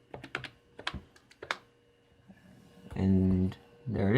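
Clicky keystrokes on the keyboard of a Compaq SLT286 laptop, a quick irregular run of taps followed by a pause, then someone speaking briefly.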